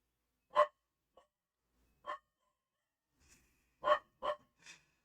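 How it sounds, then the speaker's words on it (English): A dog indoors barks at a mail carrier in short sharp yaps, a single bark, another, then a quick cluster of three, fairly faint and separated by silence. "Dog going off at the mailman."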